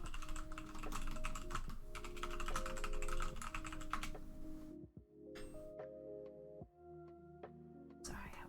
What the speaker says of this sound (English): I know you can hear my typing